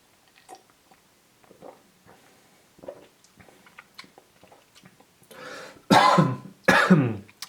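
One person coughs twice in quick succession, loud and close, right after quiet mouth and tasting noises while sampling a lemon soda mojito.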